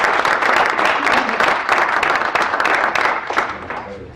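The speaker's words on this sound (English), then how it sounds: "So another big round of applause for these guys." An audience gives a round of applause at a talk on crowdfunding in Michigan: loud, dense clapping that stays strong, then thins out toward the end, with faint voices mixed in.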